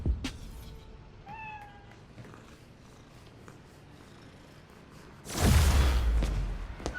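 A cat in the Spider-Man: Miles Morales video game gives a short rising meow, then purrs softly, before a loud whooshing rush of game sound sweeps in near the end.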